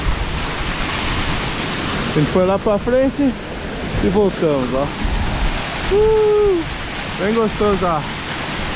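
Waterfall in the São Jorge river canyon, a loud constant roar of falling water close by, with someone speaking over it in several short phrases.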